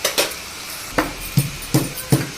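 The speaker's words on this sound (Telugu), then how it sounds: "ఇప్పుడు దీనిలోకి మనము ఎల్లిపాయలు దంచేద్దాం" A small mortar pounding garlic: several sharp, evenly spaced stone thuds, close and clear, with short gaps between strikes and no talking.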